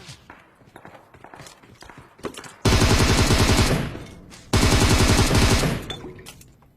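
Two long bursts of rapid automatic gunfire in a video game, close and loud, the first stretching roughly a second and a half and the second about as long, with quieter scattered shots and faint game sounds around them.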